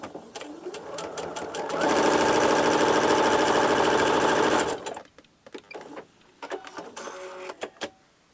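A sewing machine stitches quilt fabric along a diagonal line in one loud, steady burst of about three seconds, then stops, followed by fabric handling and light clicks.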